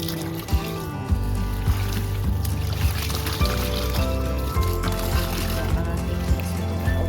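Water pours and splashes steadily onto a compost pit with a trickling, liquid rush, punctuated by several soft thuds and knocks at irregular intervals.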